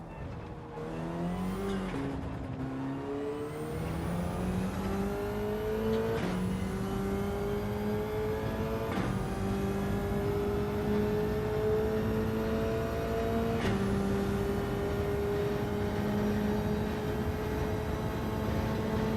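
A car engine in Gran Turismo 7 revs hard through a racing lap, its pitch climbing steadily and dropping sharply at each gear shift, loud and close throughout with no talking.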